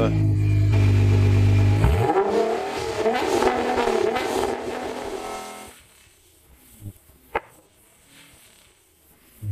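A loud Nissan GT-R engine with a new titanium exhaust roars and revs hard, then drops away to a low idle with a couple of sharp pops near the end.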